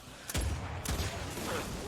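Fortnite Save the World gameplay with a level 130 Basilisk pistol fires two sharp shots about half a second apart, each with a low boom that fades under a steady game ambience.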